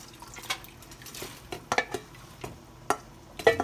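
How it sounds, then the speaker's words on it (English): Stirring shredded cabbage into a pot of boiling Filipino sopas, scattered wet clinks and sloshes of the spoon against the pot over a soft bubbling background, close by and fairly quiet. "I'm going to stir that up for a minute and let it sit"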